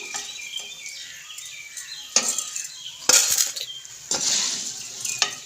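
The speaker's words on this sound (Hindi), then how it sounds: "सारी दाल को हम घी के अंदर से निकाल लेंगे।" A metal spoon clinks and scrapes in a pan as fried chana dal is lifted out of hot ghee with the stove off, several sharp close clatters over a faint background.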